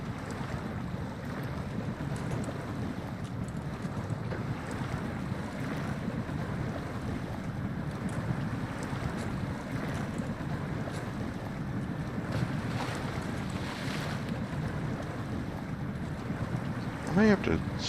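Articulated truck in the video game Snowrunner wading through deep, dangerous water, a continuous low rumbling churn with splashing and watery rushing that stays steady throughout, with no talk.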